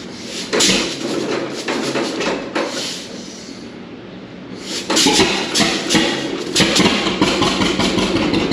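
A John Deere A tractor engine starts up with several heavy, uneven bursts and clanks, briefly dropping off before catching and settling into a loud, continuous running chug.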